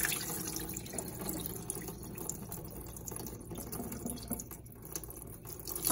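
Rinse water from freshly washed rice pouring off into a kitchen sink, a steady close splashing trickle with drips running throughout, no talking.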